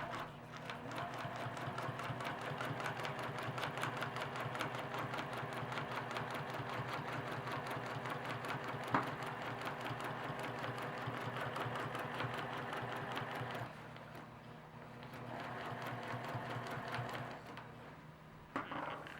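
A sewing machine stitches a quilt row, running in a fast steady stream of needle strokes for most of the clip, then slowing and pausing briefly before a final short burst.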